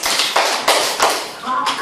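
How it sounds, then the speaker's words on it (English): Young children aged four to six clap their hands in a classroom, a burst of quick, uneven claps in a few loud clusters, with voices mixed in. "clap your hands"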